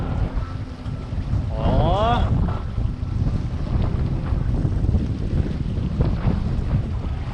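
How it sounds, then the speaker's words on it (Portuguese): Strong gale-force wind roars steadily over a small Flash 170 sailboat sailing near the north side of Ilha dos Amores, with loud buffeting on the microphone throughout and a brief vocal exclamation early on. "Vamos sentir essa ventania aqui, esse vendaval"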